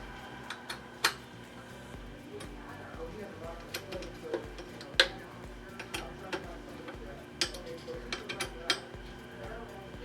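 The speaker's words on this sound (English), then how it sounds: "you can go ahead and use a standard Allen wrench, tighten down the Allen bolts so that the position is locked in place" An Allen wrench tightening Allen bolts on a small Wi-Fi patch antenna mount, scattered light metallic ticks and clinks at close range, irregular and faint beneath someone speaking.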